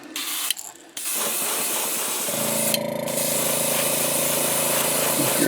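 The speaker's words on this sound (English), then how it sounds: "I spray everything pretty much at about 40 pounds of air pressure" An airbrush sprays Createx opaque white paint onto a fishing lure at about 40 psi, giving a loud, close, continuous hiss with short stops and restarts early on, then a steady spray carrying a faint mechanical hum.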